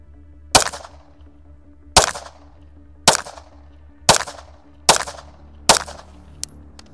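Six sharp, loud shots from an Atlas EOS pistol fired at a paper target, spaced about one second apart, each a crisp crack with a short ringing decay, followed by a faint click.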